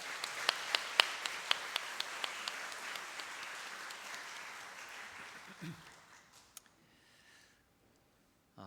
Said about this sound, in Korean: 감사와 격려의 박수하도록